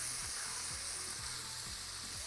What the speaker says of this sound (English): You can see the fat rendering and melting, and we're gonna let it cook in its own fat to get that crispy effect.